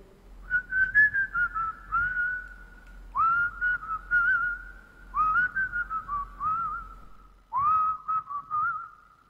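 Whistling a bolero, a clear solo melody in four long phrases with short pauses between them, close and alone in a quiet room.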